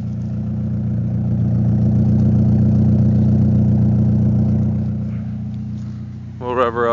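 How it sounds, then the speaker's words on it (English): A car engine idles steadily with a low rumble, swelling slightly before a brief rising rev near the end. "We'll rev her up for you a little bit."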